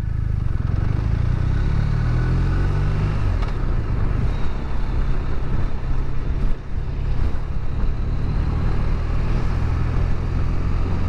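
A BMW R 1250 RT Sport 2021 boxer motorcycle engine drones low and steady while riding on a test ride, heavy wind rush over it and no talk.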